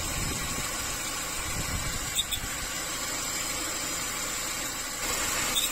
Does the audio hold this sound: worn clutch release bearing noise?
yes